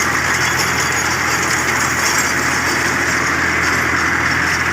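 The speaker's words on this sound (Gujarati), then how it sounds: "પછી કરી નાખી આપણે લોટરી ચાલુ" A tractor-mounted rotavator runs in a farm field, giving a loud, steady engine drone with broadband churning noise that holds constant throughout, with no voices.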